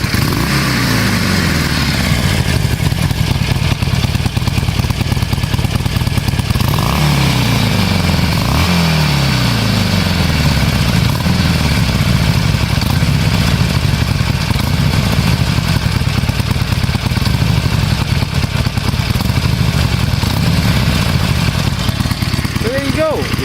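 A 2016 Harley-Davidson Forty-Eight Sportster XL1200X runs with a deep, loping V-twin exhaust idle, steady and close, broken by a few throttle blips midway and carrying on to the end.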